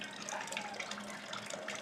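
Water runs and splashes steadily while sparging an all-grain home brew cream ale, a close, continuous pouring rush with no voice.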